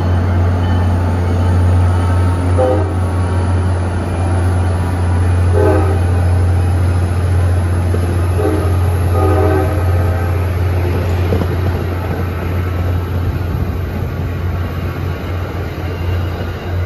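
An MBTA Commuter Rail train with a GM locomotive rumbles steadily near Chelsea on the Rockport line, its horn sounding several short blasts over the loud, continuous engine drone.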